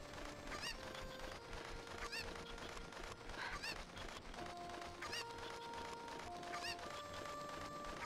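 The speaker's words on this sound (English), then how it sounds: "I will not attack the chickens." Cuccos, the chickens of the video game Zelda Ocarina of Time, let out repeated squawking, honking calls in short bursts, loud and close, over a steady game music bed with sustained tones.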